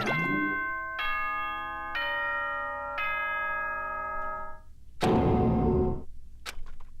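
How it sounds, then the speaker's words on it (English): A chime in the video game Danganronpa 2: a series of clear ding-dong bell tones ringing in sequence, followed by a burst of noisy sound and a short click, with no talking. "That chime just now?"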